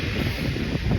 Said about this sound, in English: Proper windy today, as you can probably hear on the camera.